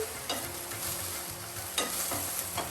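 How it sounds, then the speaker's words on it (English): Dry misal base of coriander powder, spices and salt being stirred in a pan, with a soft steady scrape and light rustle plus a few sharper spoon strokes against the metal, close by and with no voices. "Now I'm going to just stir this well"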